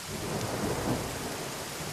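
Steady rain falls in a dense, even hiss with a low rumble of thunder rolling underneath, faint and continuous.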